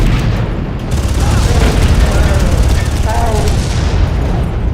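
Dense gunfire and booming explosions from the video game Far Cry roar continuously and loudly, with rapid shots layered over heavy blasts throughout.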